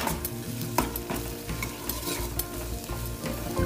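Two spoonfuls of Maharashtrian kanda lasun masala chutney stirred and fried in a pan for dhaba-style akkha masoor fry. Steady sizzling sits under frequent scraping strokes and clinks, close up, with no talking.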